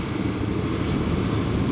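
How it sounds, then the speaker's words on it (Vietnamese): A high-speed passenger boat running from Gạch Giá to Hòn Tre at about 11 knots gives a steady, loud low engine drone, with no talk over it. "Đây là chiếc tàu cao tốc đi Hòn Tre nha các bạn."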